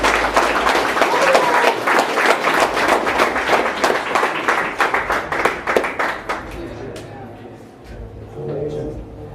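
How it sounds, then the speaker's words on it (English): Hip-hop event audience applauding themselves: dense, loud clapping from a crowd that thins out after about six seconds into scattered claps, with a voice briefly heard near the end. "clap it up for yourselves one time"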